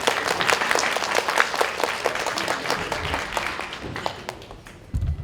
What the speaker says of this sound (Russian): ваше приветствие в виде аплодисментов должно открыть нашу встречу